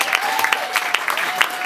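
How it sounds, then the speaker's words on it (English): A comedy club crowd applauds a comedian's story, dense steady clapping with a faint tonal whistle underneath. "That's just terrible that you applaud that story."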